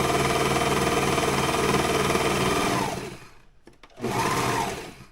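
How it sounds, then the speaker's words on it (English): A Know ME 2050 serger overlock machine stitches fabric in a loud, steady mechanical whir, stops briefly, then runs again in a second short burst. "it really would make more sense for me to just sew everything on the serger"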